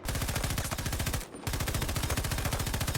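Sustained LMG fire in Battlefield 2042, a loud, rapid stream of automatic shots with a brief pause before the burst resumes, close and dominant with no talk.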